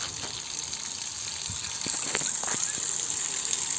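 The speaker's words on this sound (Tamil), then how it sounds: "தண்ணி எப்படி வருது பாருங்கள். எல்லா பைப்லையும் இந்த மாதிரி தண்ணி வரும்." Water gushes steadily from a pipe in a constant hissing rush that grows louder partway through, with a few faint knocks underneath.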